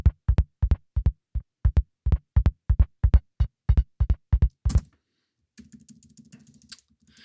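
A fast run of hard, clipped metal kick drum hits, triggered and chopped off hard, dry and punchy, about fifteen in a row, then a brief low, faint rumble.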